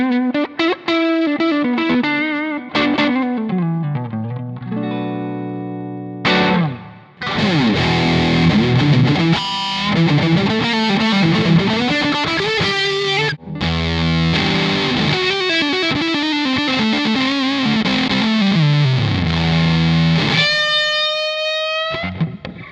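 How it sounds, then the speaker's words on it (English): Electric guitar run through drive pedals into a tiny quarter-watt DIY Dumble-style amp, loud and distorted, with sliding bends, sustained notes and strummed chords, a few short breaks between phrases, played alone with no talk. "I want you to listen to how it reacts and how it responds to each one of these drives"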